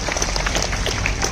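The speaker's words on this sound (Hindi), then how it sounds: "तालियां।" Audience applause at a school sports day event, a dense, steady patter of many hands clapping close by that carries through the whole short stretch without pause.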